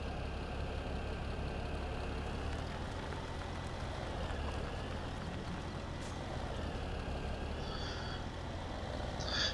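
A tractor engine idles in the Farming Simulator 17 game, a steady low rumble with an even mechanical drone throughout, loud and close, with a faint hiss near the end.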